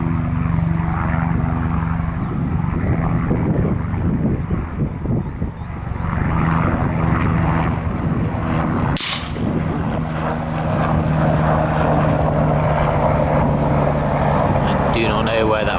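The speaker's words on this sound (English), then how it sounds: "Apologies for the helicopter." A helicopter passes overhead at an outdoor shooting range, a steady loud rotor and engine drone that fills the whole stretch, with speech under it and a brief sharp burst partway through.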